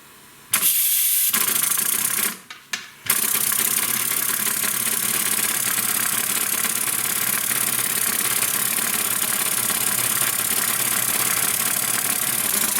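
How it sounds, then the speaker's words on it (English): Steam from a boiler hisses steadily through a small oscillating model steam engine, a loud continuous close rush that cuts out briefly twice near the start and then runs on unbroken. "Well, we know the steam is coming through because there it is."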